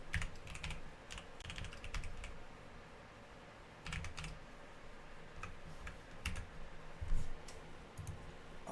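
Computer keyboard typing during a login on a PC parts website, with bursts of quick keystroke clicks in irregular clusters over a steady low room hum, fairly near and moderately loud.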